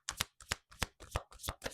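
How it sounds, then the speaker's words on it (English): Tarot cards being shuffled by hand, close and clear, in about six rhythmic bursts of riffling with short pauses between them. "I can shuffle all day"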